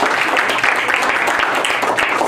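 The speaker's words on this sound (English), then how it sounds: "Now everyone can applaud for everybody." Steady applause from a debate audience fills the room, a dense wash of clapping with no pauses throughout.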